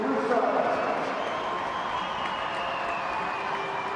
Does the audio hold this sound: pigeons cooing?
no